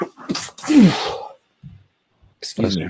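A single sneeze at a tabletop role-playing session, one sharp burst near the start, framed by brief talk before and after.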